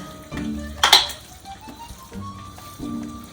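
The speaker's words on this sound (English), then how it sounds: "And then I'm going to add my chopped up almonds." Chopped almonds tumble into a hot Almond Roca toffee mixture and are stirred, with one sharp scraping rattle near the start followed by soft, intermittent stirring scrapes in the pan.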